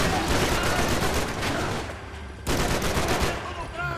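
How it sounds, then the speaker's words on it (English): Shotgun fire in the video game Max Payne 3, loud heavy blasts in a chaotic burst, a sharp shot marking a renewed volley midway, with some voice mixed in. "Fucking shotgun."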